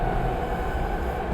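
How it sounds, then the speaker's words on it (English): A train rumbles along in the VR game Here They Lie, a steady low rolling drone close by with no voices over it. "I guess we're going on the train and we're going away"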